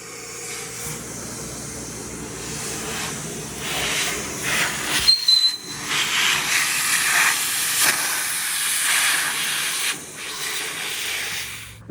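A DeWalt Stealthsonic shop vac runs with a steady airy hiss and whoosh in a workshop, its pitch shifting briefly around the middle as the suction changes.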